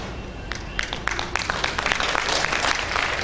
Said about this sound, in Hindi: मुझे बड़ा अच्छा लगा कि ये तालियां महिलाओं ने बजाई हैं